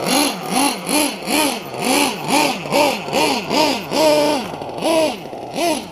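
A small RC model engine, running slightly rich, buzzes close by with repeated rhythmic throttle blips, about a dozen quick rising-and-falling revs in a steady pulse.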